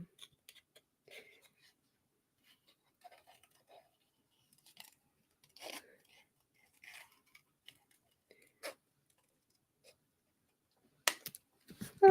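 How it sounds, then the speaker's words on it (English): Scissors snip through card stock while cutting out a paper magnolia flower, a few sparse, quiet clicks and snips separated by pauses, with one louder burst of handling near the end. "I'll go ahead and cut through there"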